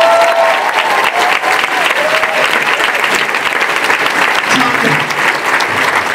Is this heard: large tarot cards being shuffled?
no